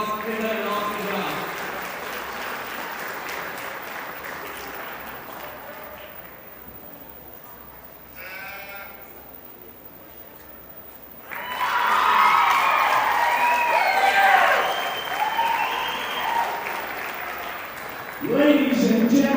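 Applause rises from the audience at a junior livestock show with sheep and market goats, dense clapping and some cheering after a stretch of announcer talk, followed by a fresh burst of clapping near the end.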